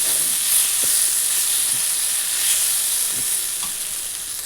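Jackfruit pieces fry in a pan for a jackfruit and prawn dish, a dense steady sizzle heard close and loud with faint occasional stirring knocks, no talking.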